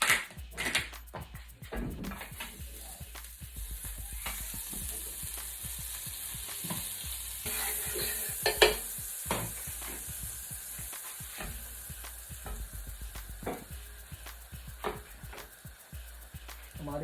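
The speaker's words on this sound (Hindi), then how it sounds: "अब हम अपनी जो ब्रेड है उसको भी टोस्ट कर लेंगे नाइसली। थोड़ा बटर डालेंगे।" Bread toasting in butter in a hot pan for a Pakistani street-food omelette, a continuous crackling sizzle with scattered clicks and scrapes of a utensil, close and steady throughout.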